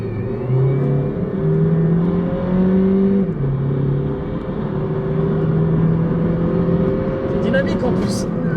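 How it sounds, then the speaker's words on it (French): A Jeep Renegade plug-in hybrid with 240 horsepower accelerates hard on its combustion engine, a loud, close engine note that climbs in pitch, drops at each gear change and climbs again. "On va mettre pied dedans, donc ça va passer en thermique."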